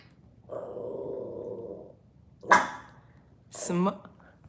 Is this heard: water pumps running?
no